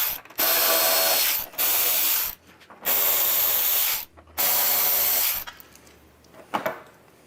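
Loud, close ratcheting rasps from a hand tool loosening motorcycle windshield bolts come in several bursts of a second or so, separated by short pauses, ending in a few scattered clicks.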